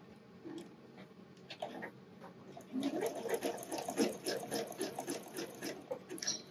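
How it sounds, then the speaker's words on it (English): A sewing machine runs steadily, stitching picot elastic onto a wireless bra. The close, rapid mechanical whirring builds after a short quiet start and continues alone. "I'm going to sew as close to the picots as I can."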